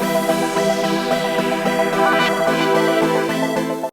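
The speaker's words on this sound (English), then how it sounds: "I chose the synth pop strings." Synth pop strings patch in GarageBand playing sustained chords that shift every half second or so, steady and fairly loud on their own, cutting off abruptly at the end.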